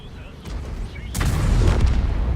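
A tank cannon shot in World of Tanks, with a sudden heavy boom about halfway through, followed by a rumbling, crackling tail and engine noise, and someone talking over it.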